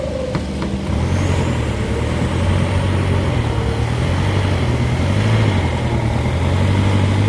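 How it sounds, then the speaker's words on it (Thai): A farm tractor engine, a 49 or 50 horsepower rice-field tractor, runs steadily at about 1500 rpm, a loud continuous low rumble with a regular throbbing beat, close by and alone throughout. "รอบเครื่องนี้ต้องประมาณ พันห้าขึ้นนะครับ"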